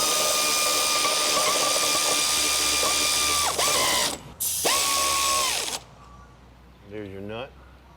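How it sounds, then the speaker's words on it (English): A wrench turns a leaf spring shackle bolt nut on a classic Mustang, making a loud, close ratcheting whir in long runs with brief pauses, then a short metallic rattle at the end. "Put a wrench on this side, hold the nut."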